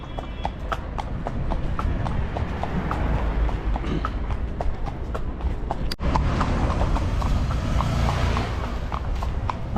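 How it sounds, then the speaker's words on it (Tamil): Horse hooves clip-clop in a steady, even rhythm throughout a horse ride in Ooty, close and clear over a low outdoor rumble, with occasional soft background sounds. "இங்கே பார்த்தீங்கன்னா குதிரை சவாரி வந்திருக்கோம்"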